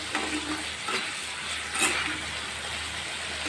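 Loitta fish fries in overheated oil, a dense, close crackling sizzle with bursts of spitting as water escapes, steady throughout with a few louder pops.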